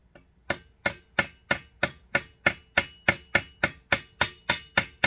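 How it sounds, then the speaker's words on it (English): A ball peen hammer strikes a rivet on a short-chambered 16 gauge shotgun in a steady, evenly spaced series of about fifteen sharp metallic blows. The strikes are close and distinct, with no talking. "I need to finish peening it down with my ball peen."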